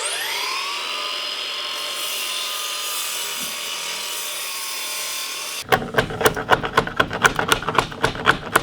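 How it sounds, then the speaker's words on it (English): A drop saw motor whines at a high, steady pitch while it spins, then bites into a deck timber, giving a quick series of sharp, loud cutting bursts close by. "Let's set the drop saw."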